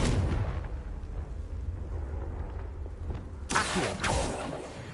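The Confringo blasting spell explodes in a Harry Potter video game, a rumbling blast at the start followed by two sharp, loud bursts near the end.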